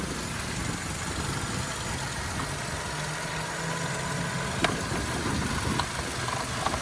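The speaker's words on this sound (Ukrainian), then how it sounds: "Робота двигуна, двигун працює чітко." A Skoda Octavia with a 1.6 MPI petrol engine idles close by, giving a steady, even running note with a low rumble. There are no voices over it.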